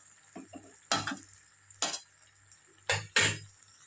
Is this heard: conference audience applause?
no